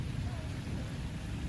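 Heavy rain from a thunderstorm over northern Hesse pours down as a steady, dense hiss with a low rumbling undertone, continuous and fairly faint.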